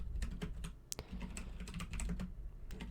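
Fast, steady typing on a computer keyboard close to a microphone, a continuous clatter of soft key clicks with one sharper tap, no voices.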